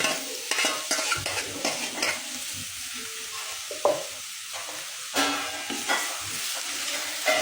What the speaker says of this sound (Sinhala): මේ ටික චිරි චිරි බැදෙද්දී